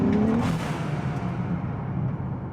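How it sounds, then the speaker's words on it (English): Nissan Z with a Turbosmart Kompact EM blow-off valve, a loud engine surge as boost builds, then a short whooshing release as the throttle closes and revs fall back toward idle. "Bit of a boost, bit of a blow-off valve noise, no problems returning back to idle"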